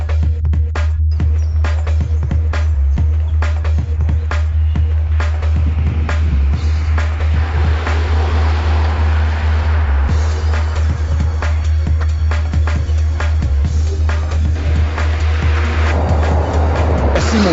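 A Nissan Micra C+C convertible accelerates hard, its engine a steady, loud drone with a strong low rumble that holds throughout, overlaid by rushing road and wind noise from inside the car.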